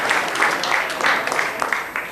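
Audience applause at a commemorative gathering welcoming a guest at BARC Tarapur, a steady wash of many hands clapping throughout, fairly close and unbroken by talk.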